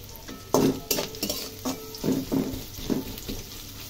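Onions browning in a pan for a dish of red amaranth greens cooked with dried fish heads, a soft sizzle under repeated clinks and scrapes of a utensil stirring against the pan.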